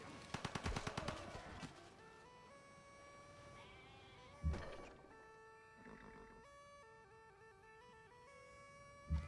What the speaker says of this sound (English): Gatling gun this Lancer.